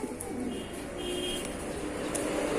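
A young Jacobin (kapucin) ornamental pigeon coos softly up close, low rolling murmurs over a faint background hum with a few thin chirps from other birds nearby.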